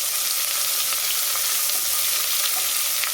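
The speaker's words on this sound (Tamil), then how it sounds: "இப்போது ஒரு 2 பெரிய சைஸ் வெங்காயம் கட் பண்ணி வச்சுருக்கேன், சேர்த்துக்கலாம்." Two large chopped onions fry in hot oil in a pan for vegetable biryani, giving a steady, close, hissing crackle throughout with no speech over it.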